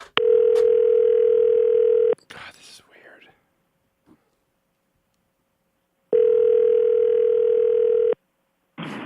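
Telephone ringback tone while dialing a number: two long steady electronic tone bursts separated by a pause, loud and close, with brief whispered talk between them.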